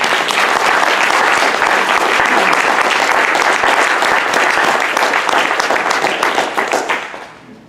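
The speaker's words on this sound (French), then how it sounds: "On peut encore applaudir, je pense." An audience at an evening talk breaks into sustained applause, loud dense clapping that holds steady and then fades away at the end.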